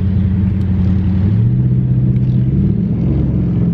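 A Dodge Charger SRT8 V8 revving in first gear, a loud, deep, steady engine roar that rises in pitch and holds high revs close by with no talk.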